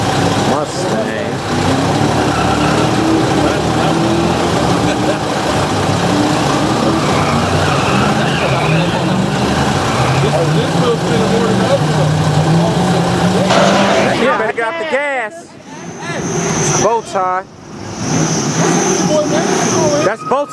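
A Ford Mustang engine roars loud and steady for about fourteen seconds at an outdoor burnout gathering, then cuts to choppier bursts with talk and crowd noise over it.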